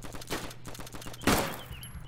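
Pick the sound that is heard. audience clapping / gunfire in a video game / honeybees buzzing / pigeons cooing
gunfire in a video game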